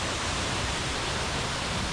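A waterfall on the Mrzli potok stream in the Posočje valley roars as a dense, steady rush of falling water, loud and close throughout with no pauses.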